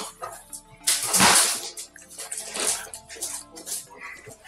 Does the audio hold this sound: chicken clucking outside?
no